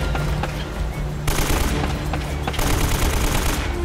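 Rapid automatic gunfire in an Uncharted game firefight, dense sustained bursts of loud shots rattling throughout with scarcely any pause.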